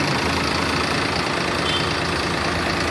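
A Swaraj tractor engine runs with a steady, dense rumble and hiss while hauling soil, close and loud, unchanging throughout with no voices.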